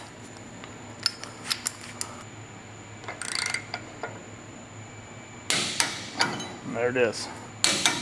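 A wrench tightens a bolt on a Ford TTB front suspension to 160 foot-pounds, giving a series of sharp metallic clicks and taps with a louder rattle of tool noise near the end and a brief spoken remark.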